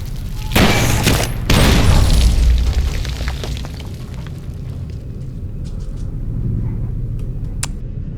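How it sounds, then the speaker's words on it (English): A heavy explosion in the video game Fallout New Vegas, two loud booming blasts in quick succession followed by a long rumbling tail that fades into a lower steady background. "I saw gas as well as the explosion."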